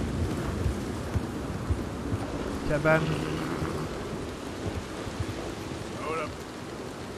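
Steady rain falls with rumbling thunder in the western video game Red Dead Redemption 2, a constant wash of downpour under a brief low roll, while someone speaks a single word over it.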